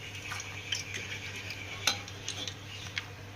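Banana pieces fry in hot oil for sharkkara varatti, a soft continuous sizzle punctuated by occasional scraping clinks of a stirring spoon against the pan, close and fairly quiet.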